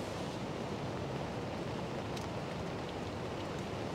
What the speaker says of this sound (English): the rain's on again, so we'll stick the kettle on